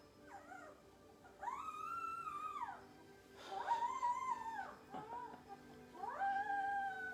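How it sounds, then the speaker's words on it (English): Several high, whining cries from young puppies, each rising and falling in pitch, come in short bursts with brief pauses, close by and fairly loud. "Such expressive little puppies."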